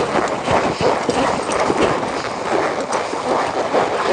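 A buckskin horse's hooves clip-clop in a steady, continuous rhythm, close and fairly loud, with no talking over them.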